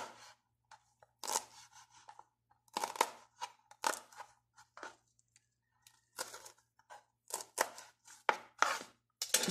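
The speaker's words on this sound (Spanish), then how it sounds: "De la misma manera, vamos a triturar un poco el apio." A knife chops celery on a cutting board in a kitchen, giving quiet, close, irregular bursts of crisp chopping strokes separated by short pauses, with no talking.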